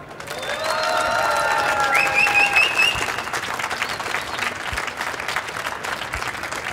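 An audience at a prizegiving ceremony for game competitions breaks into loud, dense applause and cheering, with a few whoops riding over the sustained clapping.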